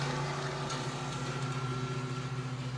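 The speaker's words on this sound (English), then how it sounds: "somebody has to start cutting my grass" A lawn mower hums steadily outside as it cuts grass, a low, even engine drone heard at a moderate distance with no pauses or voices.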